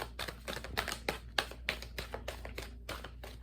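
Tarot cards being shuffled by hand give a quick, close run of soft papery clicks and taps in an uneven rhythm, with no voices.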